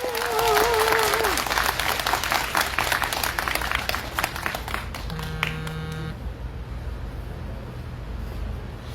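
A crowd at an outdoor strike rally for call center workers claps for a counselor, dense applause that is loudest early and thins out, with street traffic, a brief car horn and voices underneath.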